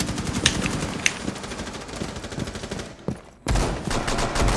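Automatic gunfire shredding a wall in Rainbow Six Siege, rapid close bursts of shots that break off briefly, then a loud, dense volley resumes.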